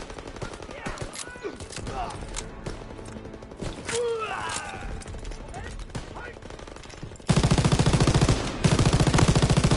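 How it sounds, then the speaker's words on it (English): Automatic gunfire from a World War II weapon in Call of Duty WWII, first scattered bursts mixed with game effects and voices, then a loud sustained rapid-fire stream with a short pause before firing resumes. "A lot of recoil on this gun though, I will admit that."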